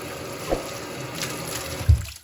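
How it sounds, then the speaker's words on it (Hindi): Warm tap water from a geyser runs steadily over aloe vera leaves being rubbed clean by hand, with a couple of soft splashes and knocks near the sink. "मैं गर्म पानी से धो रही हूँ।"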